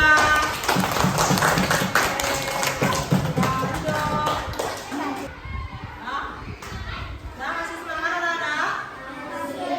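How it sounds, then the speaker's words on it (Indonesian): A classroom of children applauds a student group, a dense burst of clapping mixed with lively kids' voices that thins out midway, followed by more chatter and scattered claps. "Tepuk tangan untuk kelompok 2."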